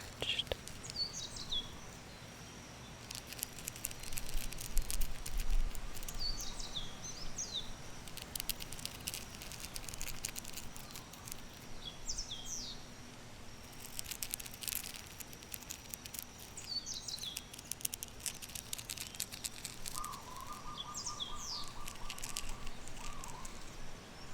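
Short high chirps repeat on and off over steady outdoor ambience in Hawaii, with a brief trilling call near the end; the birds sound moderately distant.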